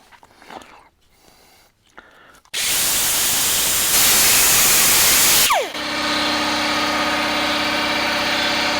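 A small power tool fitted with tiny mini Roloc discs, used while fixing the body of a vintage Wilton No.4 bench vise, starts with a loud sustained whine and hiss after a quieter stretch of shop noise, then settles to a steady lower drone.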